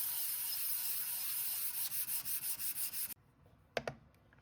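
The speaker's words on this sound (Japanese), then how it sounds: "ヤスリで削って見た目を少しでも良くしたつもりです" A hand file rasps across a metal part, the homemade lathe dog (driver), cleaning up rough milling marks; steady scraping turns into a run of quick rhythmic strokes, then stops, leaving only a couple of faint knocks.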